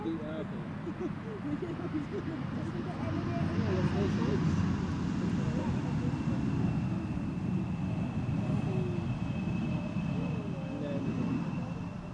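KLM flight 1186, a six-year-old airliner arriving at Schiphol Airport from Kristiansand, gives a steady low engine rumble at moderate distance, with a faint whine above and no talking.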